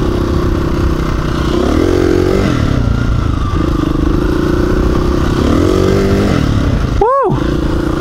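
A motorcycle engine revs in rising throttle surges during a wheelie ridden without the clutch, loud and steady, with a short sharp whine near the end.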